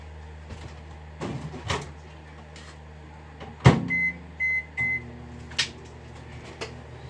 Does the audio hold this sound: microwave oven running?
yes